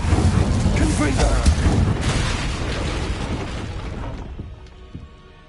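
Confringo fire spell exploding in the wizarding game Hogwarts Legacy: a loud, dense blast with crackling debris that rumbles and slowly fades over several seconds.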